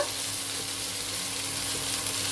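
Vermicelli is stirred and mixed in a frying pan, giving a steady, even sizzle with faint scraping of the utensil throughout, close and continuous with no voices.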